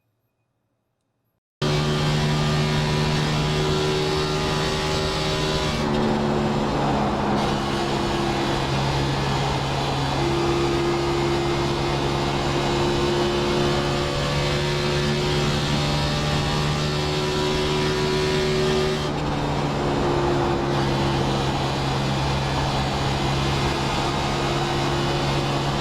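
Race car engine from the iRacing sim on a lap of Kansas Speedway, a steady loud drone with harmonic whine that shifts pitch gradually as gears and speed change, continuous throughout after a brief silent start.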